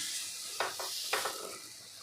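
Besan dosa batter being spread in circles on a hot pan, soft sizzling with two brief scraping swirls of the spoon, quiet and close, no voices.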